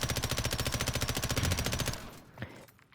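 Rapid automatic gunfire from a gun in Call of Duty MW3 Warzone, a steady close burst of evenly spaced shots for about two seconds, then stopping with one faint later report.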